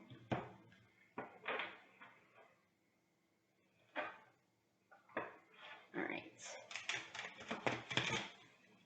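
Bursts of crisp papery flapping and clicking as a thick, large deck of tarot cards is shuffled, repeated several times with pauses, ending in a longer rapid riffle; a voice speaks briefly.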